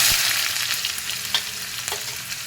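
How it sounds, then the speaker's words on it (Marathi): Cumin, mustard seeds and onion hit hot oil in a pan, a loud, dense sizzle that fades slightly, with scattered pops and stirring scrapes, no one speaking. "तेल तापलेलं आहे त्याच्यामध्ये आता मी हे जिरे थोडेसे घालते मोहरी घालते कांदा घालते"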